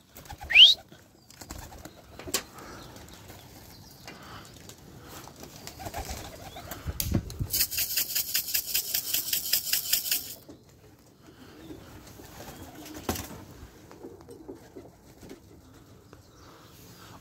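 Pigeons on a loft coo softly, with a loud rapid burst of wing flapping midway as birds take off, and scattered shuffling and bird calls throughout.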